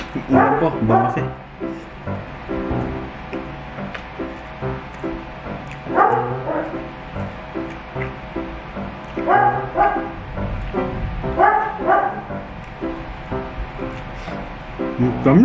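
Several dogs bark, yip and whimper in scattered bursts close by, with gaps of quieter whining between the louder clusters.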